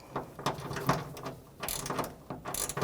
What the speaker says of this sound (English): Take the 7mm socket